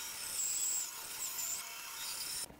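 A hand tap cuts threads into holes in wood while a tool stand is being built, giving a steady, fairly loud grinding and rubbing noise that stops abruptly near the end.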